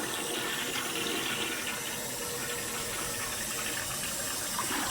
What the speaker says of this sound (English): now that water is filling up